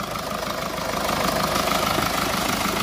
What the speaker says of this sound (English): It's been idling for a minute or so.